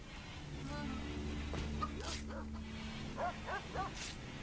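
A dog in the video game RimWorld gives several short yips and whimpers, faint and spaced out over a low humming background, with someone talking quietly beneath.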